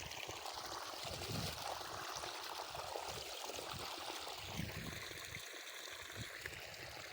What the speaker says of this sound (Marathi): चला चालू झालं आता पाणी